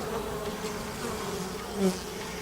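Honeybees hum at an open hive during an inspection, a steady close drone of many wings, calm and even, with one bee buzzing louder near the end.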